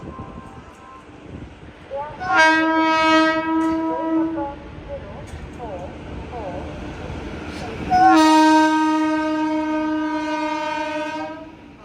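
The Madhya Pradesh Sampark Kranti Express sounds two long, loud horn blasts over the train's rumble at a platform at Hazrat Nizamuddin station, with voices in the background.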